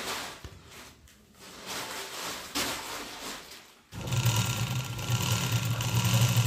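A sewing machine runs steadily while stitching the fall onto a saree, a continuous mechanical whir that grows louder and denser in the second half after a brief pause.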